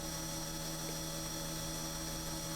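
An OMPY M2 RC helicopter lifting off and hovering, a steady whining rotor and motor drone with constant tonal hum, unchanging and continuous throughout, no talk.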